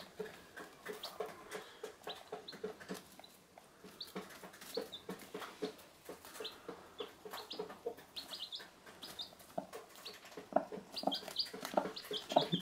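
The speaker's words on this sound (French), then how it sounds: "On a 4 petits poussins." Several small chicks peep busily beside a hen's low clucking, close and continuous, with bright chirps scattered throughout and no talking.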